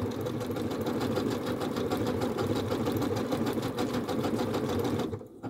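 A Janome sewing machine with a circular attachment stitches a circle, running at a fast, steady rattling whir close by with rapid even needle strokes before stopping abruptly at the end.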